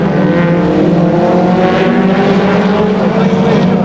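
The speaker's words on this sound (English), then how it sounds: "The 59 car also going very, very quickly around the outside of the raceway" Race cars speeding around Aldershot Raceway, a loud continuous engine roar with layered harmonic whine that swells and shifts as cars pass close by.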